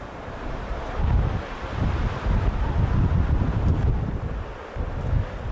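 Strong wind blows steadily across the microphone at a high lookout in Arizona, a loud, close rushing roar with gusty swells and no speech.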